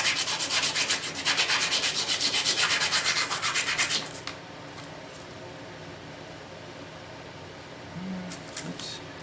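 Violin wood is sanded by hand with coarse 120 grit wet-or-dry sandpaper, rapid back-and-forth rasping strokes close up for about four seconds, then stopping to a quiet room hum with a faint voice near the end.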